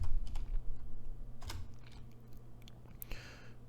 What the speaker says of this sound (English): and then we type the name of our branch.